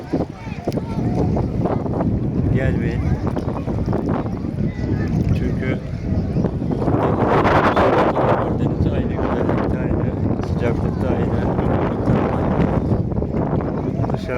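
Strong, continuous wind buffets the microphone outdoors at Erikli beach, Saros, Keşan, a roaring gusty rush that swells around the middle with a faint wash of surf beneath.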